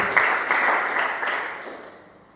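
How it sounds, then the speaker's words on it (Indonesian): Church congregation applauding during a sermon, a brief burst of many hands clapping that peaks early and gradually fades away. "Beri tepuk tangan terbaik buat Tuhan"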